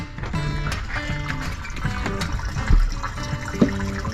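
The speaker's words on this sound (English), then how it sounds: "Yes, I hear water." Water trickles and splashes steadily from a running pump through an opened through-hull fitting on a boat, with a low tonal hum and occasional knocks underneath.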